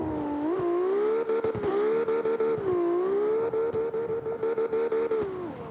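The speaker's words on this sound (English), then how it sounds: "You hear the horsepower screaming." A race car engine screams at high revs off the line at a circuit, a loud, sustained wail that rises and dips with quick gear shifts and throttle lifts.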